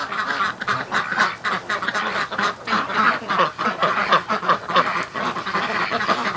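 Muscovy ducks mill around a pen, their quacks and honking calls repeating in a busy, uneven chorus close by, with no talking.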